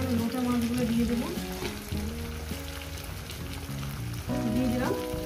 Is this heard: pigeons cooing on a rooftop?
no